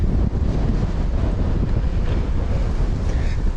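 Strong wind buffets the microphone during a bike ride in a constant loud roar, steady throughout with no voices.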